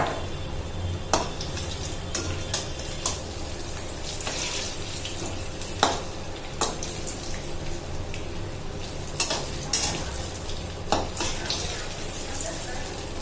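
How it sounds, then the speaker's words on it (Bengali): Gram-flour chops frying in oil in a home kitchen: a continuous soft sizzle with occasional sharp clinks and taps of utensils against the pan, moderately close, with no talking. "এখন চপগুলো ভেজে ভেজে নেবো।"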